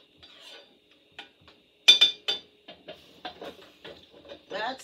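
A metal spoon stirring spaghetti-style sauce in a pot on a stovetop, heard as a series of short scraping and clinking strokes at an uneven rhythm, close and fairly quiet, with no talk over it.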